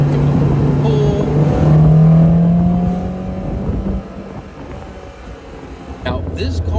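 A 1972 Fiat 124 Spider, modified over the years as a touring car, revs hard while driving after a downshift. The engine is loud and close, its pitch climbing under load before easing off and settling into a lower drone.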